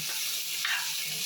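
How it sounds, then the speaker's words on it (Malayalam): Vegetables including drumstick and snake gourd stirred in a hot frying pan for Kerala theeyal curry, a steady close sizzle with a brief scrape of the spoon partway through. "നല്ലോണം ഇളക്കി കൊടുക്കാം."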